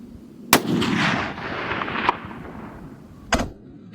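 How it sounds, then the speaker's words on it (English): A rifle shot fired at a watermelon-sized rock on a black bear hunt, one loud sharp crack followed by a long rolling echo, then a second fainter crack a few seconds later, outdoors with no talking. "I decided to take a shot with the gun just to get a little more familiar with it."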